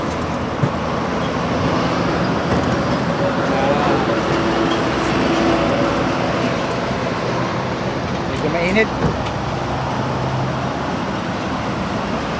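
Steady traffic on the SLEX expressway heading into Manila, a continuous broadband roar of passing cars and buses with a few louder swells, while a person speaks briefly over it.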